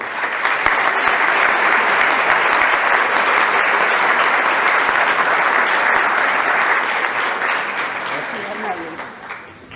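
Sustained audience applause at a constitutional law congress in Spanish, dense clapping from a large seated crowd holding steady for nearly ten seconds before tapering off at the end.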